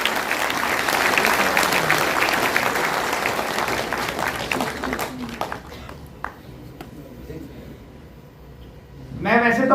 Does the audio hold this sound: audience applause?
yes